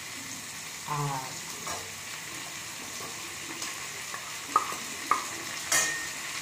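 Ground chilli powder and Kashmiri chilli go into a pan for a paneer, potato, capsicum and pea curry, stirred through with soft scraping over a steady sizzle and a few sharp utensil clinks, with a brief spoken word.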